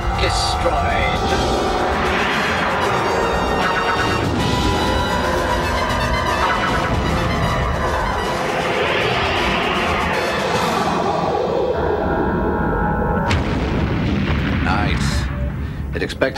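Weapons fire and heavy explosions from a science-fiction TV action scene, dense booming blasts and roaring bursts swelling and fading over a loud soundtrack for about sixteen seconds.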